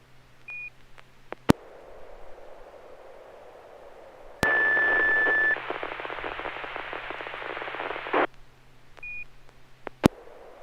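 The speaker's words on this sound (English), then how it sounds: "let me try a tone out here" On an amateur radio SSTV net, a short tone and scattered clicks come through radio hiss, then a burst of loud static carrying a steady test tone lasts several seconds before fading back to quiet noise.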